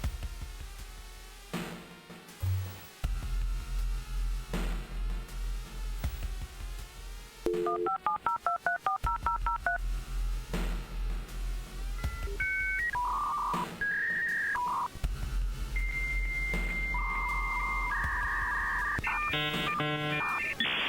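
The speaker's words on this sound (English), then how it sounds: "The system hums, you hear a brief dial tone, and then it connects." A dial-up modem dials a string of DTMF tones, then runs through the loud handshake of screeches, warbling tones and hissing bursts as it connects, alone and close.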